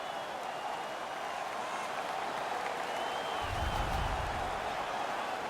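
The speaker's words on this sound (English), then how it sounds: "Their man's won the fight. The crowd is ecstatic." Crowd cheering in a hockey arena after a fight in the video game NHL 19, a steady roar of cheers and applause holding at one level throughout, swelling a little toward the end.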